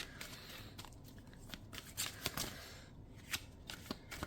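Tarot cards being shuffled by hand, a quick run of crisp riffling and flicking card snaps, close and fairly soft, with no talking.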